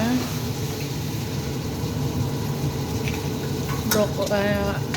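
Squash, mushroom and okra stirred and frying in a pan for a vegetable adobo, a steady close sizzle with soft scraping and clinks of a utensil near the end.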